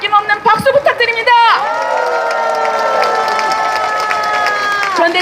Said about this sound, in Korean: 그분들께 다시 한번 그 수고에 대해서 아낌없는 박수 부탁드립니다.